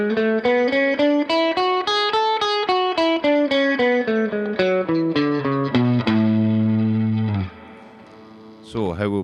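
A major scale is played on a distorted electric guitar, one note at a time in an even rhythm, climbing and then descending before ringing out. A final struck chord follows after a short pause.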